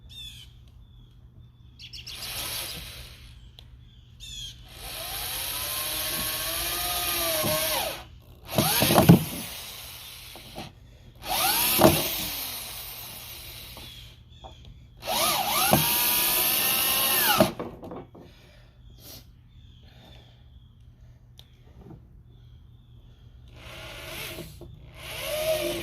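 A power drill drives screws into the back of a shed in several whining bursts of a few seconds each, its pitch rising as each screw seats, with birds chirping outdoors in the pauses.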